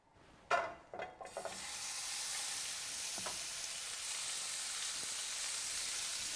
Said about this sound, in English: So we're just going to leave that for a couple of minutes to brown all over